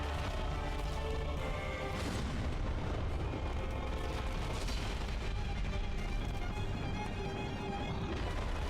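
A Dark Souls boss slings a booming explosion attack out to the side: deep rumbling blasts with a sharp burst near the start, thick and continuous at low volume amid game noise.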